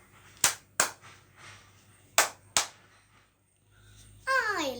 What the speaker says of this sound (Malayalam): എല്ലാവരും ഹാപ്പി ആണെങ്കിൽ ഒന്ന് കൈയടിച്ചേ.